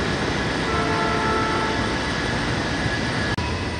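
A Florida East Coast Railway train rolls past on the Medley lead near the Hialeah area, a loud, close, steady rumble and roar of wheels with a single sharp click near the end.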